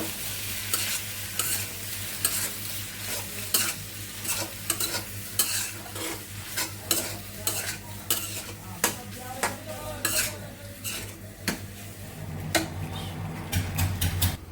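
A spoon stirs and mixes food with sauce and a spoonful of mayonnaise, scraping and clinking steadily against the bowl with short repeated strokes over a low steady hum, no talking.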